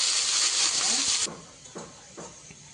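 Beans frying in oil in a kadai make a strong hissing sizzle that cuts off abruptly, followed by a few soft clunks of stirring.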